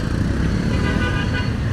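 Dhaka road traffic with motorcycles and car horns, a dense continuous engine rumble with faint honks mixed in, close and loud throughout.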